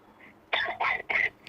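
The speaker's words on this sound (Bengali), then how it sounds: "আপনি জোরে কাশি দেন।" A patient with months of lower back pain coughs hard on request during an examination: three loud, close, evenly spaced coughs after a faint throat sound.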